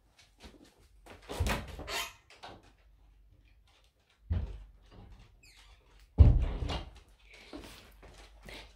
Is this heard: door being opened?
yes